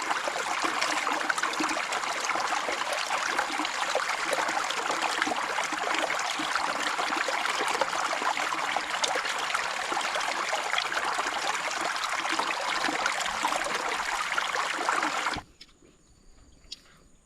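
Cold water flowing in a stream near rice fields, a constant bright rushing and gurgling, close and steady, then cutting off abruptly near the end into near silence with a few faint knocks.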